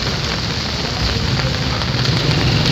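Heavy rain pours in Taxila with a dense, steady hiss that stays loud and unbroken throughout, and no voices are heard.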